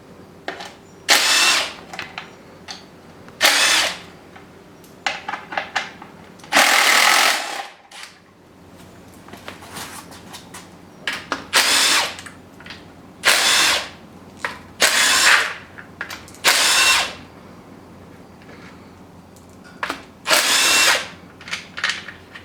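Repeated short bursts of a power tool spinning a 10 mm socket as bolts come off the timing covers of a Subaru WRX turbo engine, roughly a dozen whirs of varying length with quiet gaps between, close and loud.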